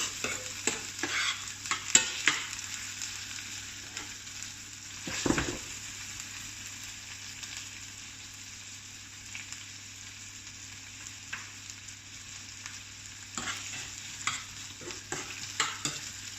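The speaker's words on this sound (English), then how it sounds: "We're just looking for the onions to soften. We don't really want to darken or brown anything." Onions with ginger and garlic fry in a pan over lowered heat, giving a steady soft sizzle broken by scraping stirs and occasional clinks, fairly quiet with no talking.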